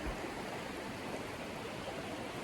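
Waterfalls at the Reculée de Baume pour down in a steady, dense rush of white water that fills the air evenly with no pauses, continuous and enveloping.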